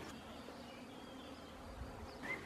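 Bees buzz in a continuous low drone along a bee corridor at the foot of a gable, outdoors and moderately close, with no talk.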